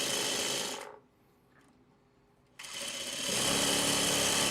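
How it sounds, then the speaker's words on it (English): A sewing machine stitches a quilt four-patch in two loud, fast, steady mechanical runs, the second longer, with a near-silent pause between them. "All right, let's get these ones sewn."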